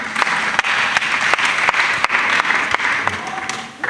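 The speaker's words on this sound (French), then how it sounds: "Acclamation." Applause from a church audience of a pastor and child disciples, a dense steady wash of many hands clapping with occasional sharp individual claps, continuous and fairly loud throughout.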